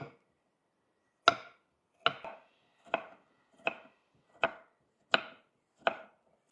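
Knife chopping onions and tomatoes on a board for a restaurant-style gravy, seven distinct sharp chops spaced about a second apart, close and clear in a quiet kitchen.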